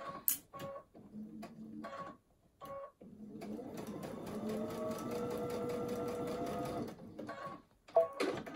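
A sewing machine bastes through a fully lined scrub cap in one steady, moderately loud run lasting several seconds, with short bursts of stitching and pauses before it and a brief burst at the end.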